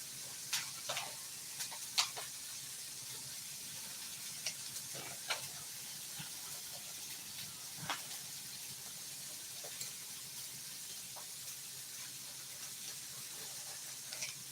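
Bacon sizzling in a pan, a steady faint hiss with scattered sharp pops and crackles spread across the whole stretch, no talking.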